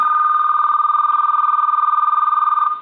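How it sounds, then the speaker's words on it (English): A two-line telephone ringing on line 2 during repair testing, a steady warbling electronic ring pulsing rapidly and continuously, loud and close, with no talk. "Line 2 is ringing and our indicator is flashing."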